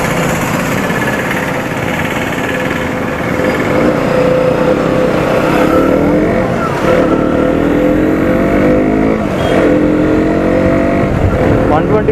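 A 2020 KTM Duke 125 BS6 motorcycle makes a U-turn. Its engine hums steadily and close throughout, with a few rising and falling revs as the bike turns, all under continuous wind and road noise.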